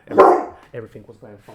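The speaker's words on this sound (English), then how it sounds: "Sorry, that's my dog. Be quiet." A pet dog gives a sharp, loud bark right at the start, then softer yips and whimpers follow as a voice talks over it.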